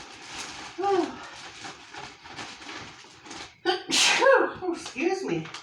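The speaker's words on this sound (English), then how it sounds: "Sneeze, sneeze." A person sneezes sharply around the four-second mark, a loud burst set amid ongoing talk at home during a Dollar Tree haul.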